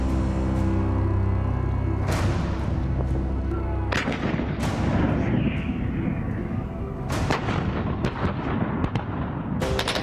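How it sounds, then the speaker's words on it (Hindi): A 105 mm field gun of an Indian artillery regiment fires repeatedly during a military exercise, several loud booming blasts with rumbling tails in close succession, alone without talk. "105 फील्ड गन से लगातार गोलाबारी कर साबित कर दिया"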